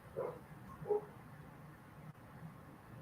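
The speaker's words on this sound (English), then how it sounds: "who's barking right now" A couple of faint dog barks or yips in the distance, two short bursts early on, then quiet room noise.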